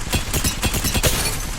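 An Apex Legends gun fires with no optic fitted, a fast steady burst of sharp, evenly spaced shots. It is loud and dense for under two seconds and stands alone with no talk.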